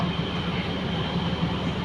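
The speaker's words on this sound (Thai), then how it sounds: "ผมก็เดินทางมาที่สถานีรถไฟแล้วนะครับ" Ambience at a train station: a steady low mechanical rumble and hum, continuous and fairly loud, with no distinct announcements or voices standing out.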